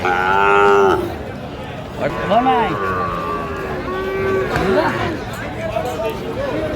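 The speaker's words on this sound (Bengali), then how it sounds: "আমরা দেখছিলাম যে আজকের বাজারে যে গরুগুলো কিনছেন শাহাদত ভাই" Cattle, including Sahiwal bulls and calves, moo loudly several times, long drawn-out calls overlapping amid people talking and market chatter at a cattle market in Comilla, Bangladesh.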